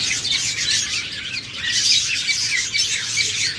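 Pet budgerigars and cockatiels in a breeding cage squawk and chirp in a dense, continuous high chatter, close by and with no voices.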